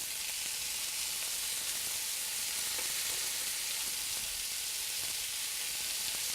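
Steady, dense sizzling of a stir fry in a hot pan as fresh lime juice is added, a continuous close frying hiss with no talk.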